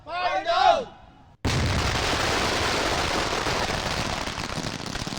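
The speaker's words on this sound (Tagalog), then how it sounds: "Ipinakita ng Explosives Ordnance Division o EOD ng PRO-4A kung gaano kalakas ang ilan sa mga nakumpiskang iligal na paputok." Confiscated illegal firecrackers explode in a police bomb squad demonstration at a camp in Laguna, a sudden loud blast giving way to a sustained roaring crackle; a voice is heard briefly before it.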